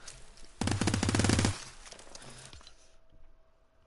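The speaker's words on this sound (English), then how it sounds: "Then I just shoot him. Hit him for 79 and 22." Rapid automatic gunfire in Fortnite, a loud, dense burst of shots lasting about a second, followed by a few scattered single shots that trail off into quiet game ambience.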